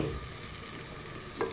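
Finger-cut potato strips frying in hot oil, a steady dense sizzle throughout with a faint stir or clink near the end, close and alone without talk.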